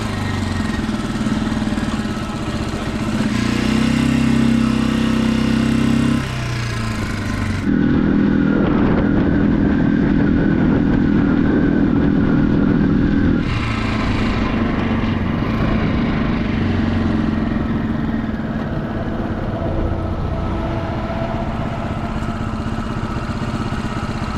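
A Gryffin 250 motorcycle still in its break-in period runs with a steady, loud engine drone, the pitch shifting as it revs up and settles through gear-like changes, close by and continuous without talk.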